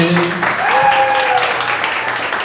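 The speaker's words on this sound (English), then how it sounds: "Oh, big round of applause there." Audience members applaud a PhD student introduced as the evening's speaker at a talk on settling Mars, the clapping moderate and continuous with a voice over it.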